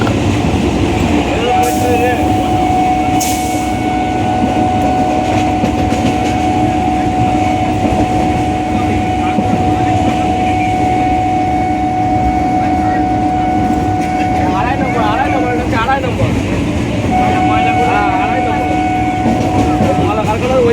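A Kolkata suburban local train near Dum Dum Junction rumbles along steadily with a constant low drone and a sustained whine, while a voice talks over the running noise.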